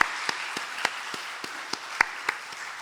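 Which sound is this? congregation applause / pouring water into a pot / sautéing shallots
congregation applause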